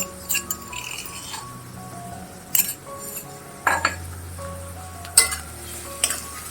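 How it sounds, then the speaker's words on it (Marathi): Crushed garlic-chili thecha being added to a pan with a spoon: quiet sizzling of frying onion under several distinct metallic clinks and scrapes against the pan, close by, with no talking. "लसूण मिरचीचा ठेचा घालते"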